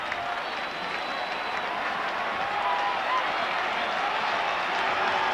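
Stadium crowd roaring with cheers and applause at a 1984 rugby league match between St George and Manly at Kogarah's Jubilee Oval, a dense, steady wash of noise that swells slightly louder toward the end.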